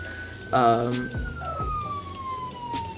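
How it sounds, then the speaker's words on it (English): A fire truck siren wails, sweeping slowly downward in pitch, heard under loud nearby voices with a short horn blast. "we would put on our light sirens and then honk at the Prius drivers"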